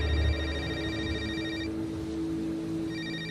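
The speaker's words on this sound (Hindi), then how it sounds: "उसी समय समीर का फोन बज पड़ा।" A phone rings with a warbling electronic tone in two bursts separated by a short gap, moderately loud over a low steady hum.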